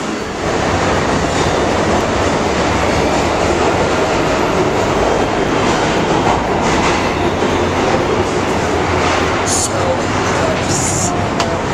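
Rumbling ride aboard a New York 6 subway train, a steady loud roar of wheels and car noise throughout, with faint voices in the car and a couple of brief high squeals near the end.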